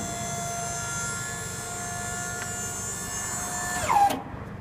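A battery-powered electric hydraulic pump on a Sure-Trac 4.5x8 utility dump trailer whines steadily and loudly as it moves the bed, then winds down and cuts off near the end.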